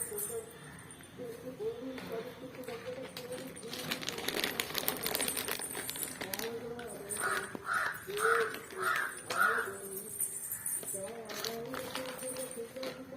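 Crows caw several times in a short run of loud calls in the middle, mixed with children's voices and chatter throughout.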